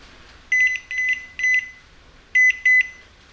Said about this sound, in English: Plus it's got two alarms on the new one, so that once you reach its maximum, the second alarm will go off.